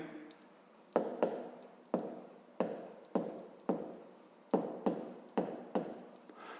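Pen strokes scratching on paper in a steady rhythm of about ten close, crisp bursts, each fading quickly, with no talk over them.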